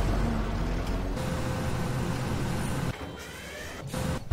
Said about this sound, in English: This harvester, I love the way it sounds.